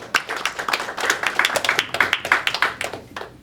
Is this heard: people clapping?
yes